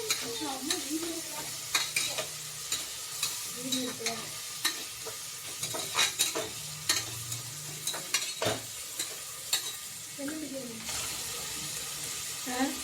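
Onions frying with salt in a pan give a soft sizzle, with a spatula scraping and knocking at intervals and some running water in the background.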